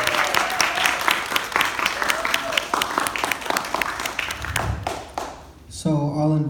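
An audience at a summer speech event in Redwood Shores, California claps steadily after the speeches, a dense, sustained round of applause that fades near the end as other sound takes over.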